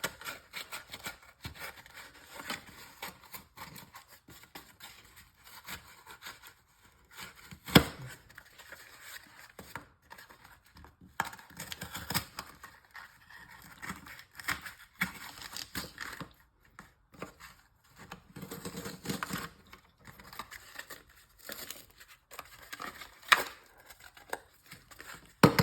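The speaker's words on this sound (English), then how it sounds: "Now what you'll need to do, if you wish, is to cut off the excess" Scissors cut off excess material from a Nerf tactical vest, with quiet, irregular snipping and crinkling of fabric and plastic close by over a long stretch, faint and intermittent with pauses.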